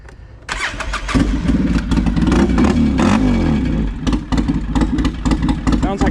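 A 2007 Polaris Sportsman 700 ATV with a changed muffler cranks and fires up, then idles loud and close with a deep, throbbing, motorcycle-like exhaust note and a few blips of the throttle.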